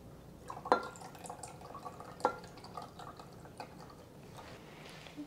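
A quarter cup of regular soy sauce is poured into a cooking pot, making faint liquid drips and splashes with two sharper drops standing out. No voices.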